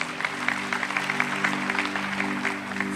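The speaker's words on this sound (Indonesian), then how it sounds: "Tepuk tangan bagi Yesus." Church congregation clapping, a brisk, fairly close patter of many hands with low sustained organ or keyboard tones underneath for a few seconds.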